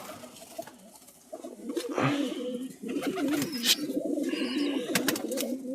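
Pigeons coo steadily, close and continuous, with some rustling and brief chirps mixed in.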